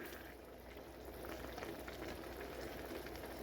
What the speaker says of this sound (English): because of the rice is already boiling